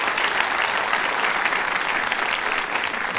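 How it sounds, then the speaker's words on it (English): Dense, steady applause from a large audience at a doctoral hooding ceremony fills the room at an even level and carries on without a break. "Give a round of applause."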